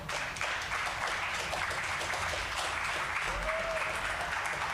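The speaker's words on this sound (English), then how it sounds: "Welcome with an applause," An audience at a spoken word event applauds to welcome poet Issac Mabu, a steady, dense wash of clapping at moderate volume that holds evenly throughout with no distinct individual claps standing out.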